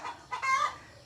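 A few short clucks from pullets in a backyard farm close by, brief bursts with quiet gaps between them.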